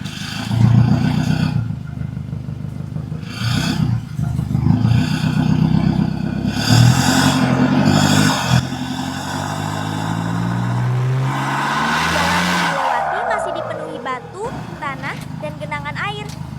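A heavy blue truck's engine revs and rumbles steadily as it pulls away slowly with a load, rising in pitch toward the end, with rattling and clatter over a continuous loud drone.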